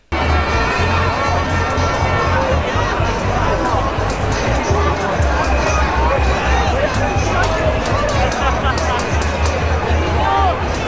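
A large crowd at an NHS workers' freedom protest march near Downing Street in central London: continuous loud hubbub of many voices, chatter and occasional cheers and shouts, steady throughout with no single speaker standing out.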